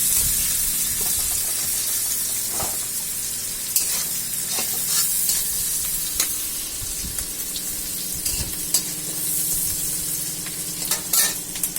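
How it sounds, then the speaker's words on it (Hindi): Onions frying in a pan for a hilsa fish curry, a steady close sizzle with scattered stirring scrapes and clinks throughout, no voices. "पियाज टी भलसे भाजीदेवा"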